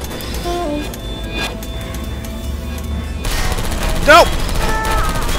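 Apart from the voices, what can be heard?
turrets firing in Portal Stories: Mel video game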